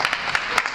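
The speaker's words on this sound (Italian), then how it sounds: "Un applauso per la signora Mariella." Applause for a woman named Mariella breaks out in an Italian candid-camera setting, a short burst of scattered hand claps, close and fairly loud, with no talk.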